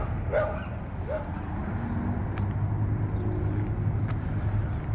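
Dogs bark at a kennel in Albuquerque, a few distant yips and woofs carried over a steady rumble of wind and outdoor noise.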